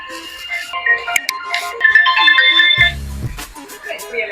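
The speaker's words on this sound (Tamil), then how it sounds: "ஃப்ரெண்ட்ஸ் ஃபோன் வருது" A mobile phone ringtone plays loud and close, a bright repeating melodic tune over a few seconds, then cut off by a short low rumble as the phone is handled.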